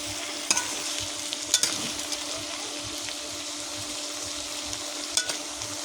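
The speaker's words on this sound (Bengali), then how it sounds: "তরকারি আবারও নেড়ে দিলাম।" Goat head curry being stirred in a frying pan, a steady sizzle of oil with a few sharp scrapes of the spoon against the pan, close by and with no talking.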